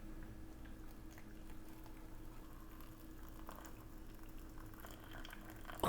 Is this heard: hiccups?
no